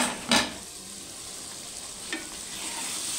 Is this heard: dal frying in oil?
yes